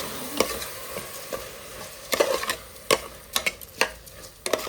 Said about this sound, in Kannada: 2 ನಿಮಿಷ ಅಕ್ಕಿಯನ್ನು ಫ್ರೈ ಮಾಡಿಕೊಳ್ಳುವ.